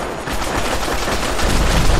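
Rapid gunfire in the Fallout 4 video game, a dense, loud burst of shots rattling continuously for about two seconds with no talking over it.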